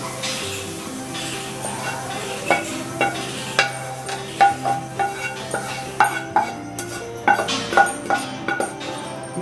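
Fried vegetables stirred into a bowl of beaten eggs for a Spanish omelette, a spoon scraping and clinking against the bowl in repeated wet strokes, steady and close, with background music.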